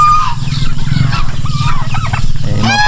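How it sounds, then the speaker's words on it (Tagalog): A flock of farm turkeys gobbles loudly and continuously up close, overlapping rattling calls filling the yard with no talk. "Ayan mga pabo."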